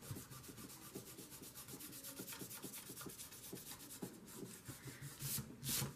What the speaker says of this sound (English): At least this Fabri-Tac comes off pretty easy. Just rub it with your finger.